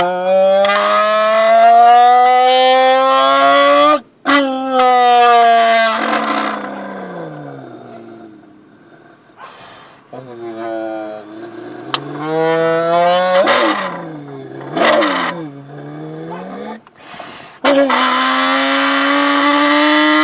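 A human voice imitates a Lamborghini Aventador engine, with loud, drawn-out rising and falling revs and roars separated by short pauses and quieter stretches.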